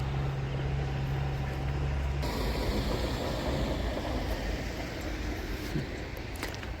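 A tractor working with a threshing machine runs steadily at a distance, a low continuous engine rumble under a broad mechanical hiss, with a change in tone partway through and no voices.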